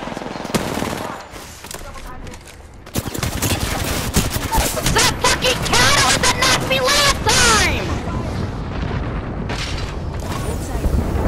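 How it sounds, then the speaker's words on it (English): Airstrike explosions pound through a video game match, loud rolling booms mixed with rapid gunfire bursts that build and sustain, with players' voices talking over the barrage. "Airstrike, airstrike."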